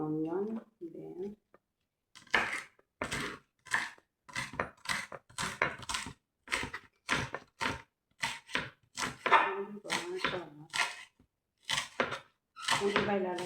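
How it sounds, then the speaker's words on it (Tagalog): Green onion sliced with a knife on a board: a steady series of crisp, evenly spaced chopping taps, close by, after a short spoken phrase at the start. "Slicing ko na siya lahat. Itong green onion."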